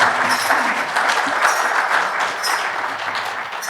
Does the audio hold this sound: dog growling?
no